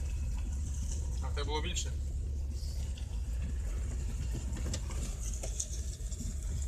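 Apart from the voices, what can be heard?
GAZ 21 car engine running after full rebuild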